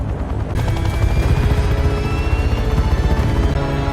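A helicopter flies off in a scene from the film The Old Guard 2, a loud, continuous low rumble with pulsing rotor thumps that stays steady throughout.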